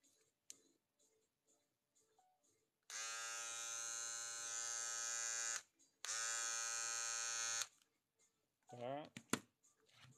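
An electric hair clipper in a barber's workshop runs steadily with a loud, bright buzz for about three seconds, stops briefly, then buzzes again. Quiet clicks come before and after, and a short burst of noise follows at the end.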